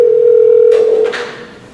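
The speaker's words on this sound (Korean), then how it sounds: "전화 연결 즉석에서 해보도록 하겠습니다" A telephone dial tone holds steady for about a second before breaking off into short clicks and a faint connecting noise as a call goes through for a live church youth radio broadcast.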